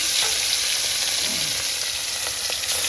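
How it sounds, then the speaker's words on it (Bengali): Rohu or catla fish frying in hot oil in a home kitchen, a loud, steady, dense sizzle that fills the whole clip with no talk over it. "তেল গরম হয়ে গেছে, এখন মাছ ভেজে নেব।"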